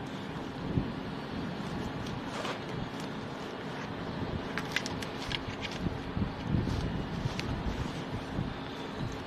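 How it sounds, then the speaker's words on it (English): Strong wind buffets an outdoor microphone at Liverpool Airport, a continuous rough roar with gusty thumps and rustling, no voices over it. "Yeah, it's a little bit windy."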